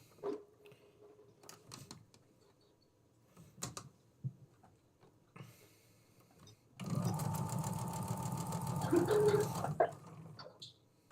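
A sewing machine chain-pieces fabric after scattered handling noises and faint background sounds, then runs in one steady, close burst of stitching lasting about three seconds before stopping.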